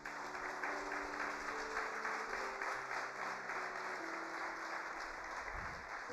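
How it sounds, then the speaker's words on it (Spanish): A church congregation applauds steadily for about six seconds during a Sunday-style service, the dense clapping continuous and even throughout, with sustained keyboard or organ tones humming underneath. "vamos a darle un aplauso al Señor"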